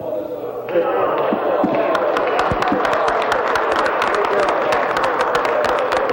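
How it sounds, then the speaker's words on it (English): Members of a provincial legislature clapping during question period, a broad steady wash of applause in the chamber following a short quieter moment, with voices mixed underneath. "Keep clapping, the clock's running out."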